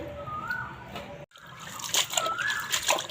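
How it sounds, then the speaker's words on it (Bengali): Leafy greens and vegetables are swished and rinsed in water with repeated splashes and sloshing, close by, broken by one brief pause. "এই যে শাকগুলো দু তিনবার করে ধুয়ে ধুয়ে নিচ্ছি"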